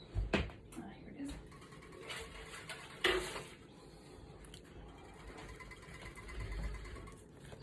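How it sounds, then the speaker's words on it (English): A paper trimmer slices a photo down to size, making quiet scraping and gliding sounds with a couple of sharp clicks close by. "So I need to cut this photo down a little bit more."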